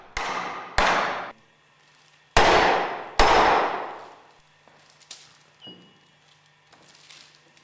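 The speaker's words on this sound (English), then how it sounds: "Carefully hammer the clutch driver into the grooved ball bearing with light blows using a rubber mallet." A rubber mallet strikes a Westfalia purifier clutch driver into a grooved ball bearing, four loud ringing blows in two pairs, followed by softer small knocks, close and with no talk.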